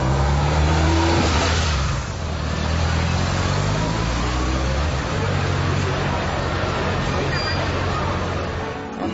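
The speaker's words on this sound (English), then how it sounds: "The motorbike makes getting to work a lot easier." A motorbike engine revs and rises in pitch as it accelerates nearby, then settles into a steady drone amid busy street noise.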